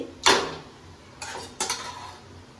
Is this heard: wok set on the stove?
yes